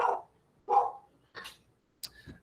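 A dog barks several times in short, separate yaps with brief gaps between them, fairly close and clear, and no one talks over it.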